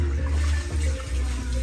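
Water runs steadily from a salon tap while hair is washed, a close, continuous rushing stream with slight dips as the flow is interrupted.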